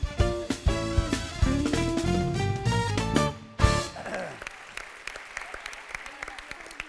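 A studio audience at a Turkish TV talk show breaks into dense, sustained applause after a burst of music, clapping steadily and fairly close until the end.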